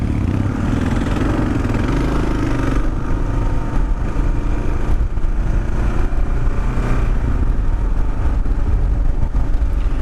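A fuel-injected Kawasaki KLR650 single-cylinder motorcycle engine runs at low speed as the rider holds a near-standstill track stand, giving a loud, close, continuous rumble with a steady mechanical clatter and no talk.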